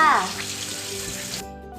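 Running water splashes steadily from a tap onto whole unpeeled taro being rinsed, a continuous wash that cuts off abruptly near the end.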